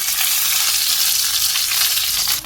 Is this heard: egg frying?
yes